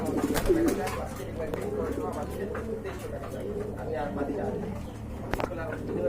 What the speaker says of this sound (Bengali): হান্ড্রেড পার্সেন্ট কোয়ালিটি ফুল কবুতর